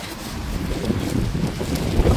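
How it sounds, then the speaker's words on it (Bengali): A strong, cold wind blows outdoors on a rainy day in Madrid, producing a continuous loud roar and buffeting rumble against the microphone throughout. "দেখো কি হাওয়া"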